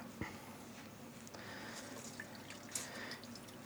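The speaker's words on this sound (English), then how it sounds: "And squeezing out the water." Water dripping and trickling from wet, freshly dyed yarn being gently squeezed by hand, faint scattered drips and light splashes over a quiet background.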